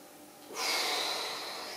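A single forceful exhale during an abdominal exercise with a pullover, close and breathy. It starts suddenly after a quiet moment and trails off steadily, with no talking.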